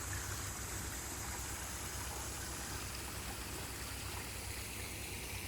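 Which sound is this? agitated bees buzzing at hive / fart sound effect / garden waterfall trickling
garden waterfall trickling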